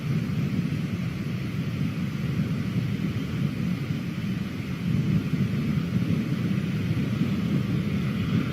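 The engines of an Antonov An-225 Mriya spool up, a broad, continuous low roar and rumble that stays steady and heavy throughout, heard from a distance with no speech.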